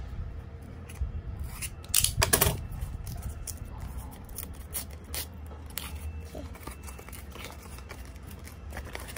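A package of K-pop photocards and albums being opened, with close scraping, rustling and crisp cutting sounds, including a louder burst of snipping partway through.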